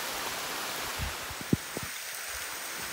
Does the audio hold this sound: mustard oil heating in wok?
no